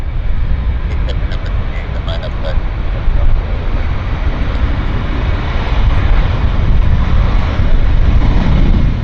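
A French Air Force aircraft at Vancouver airport gives a loud, continuous engine roar with broad rumble and wind-buffeted noise throughout, and a voice talks briefly at the start.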